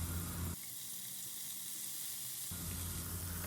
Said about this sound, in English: I'll add the paneer cubes seasoned with salt and Piri masala